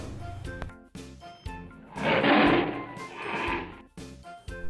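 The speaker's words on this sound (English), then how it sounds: "Tiger makes a roar sound" A tiger gives a loud, drawn-out roar that swells and then fades. Bursts of music or other sounds come before and after it.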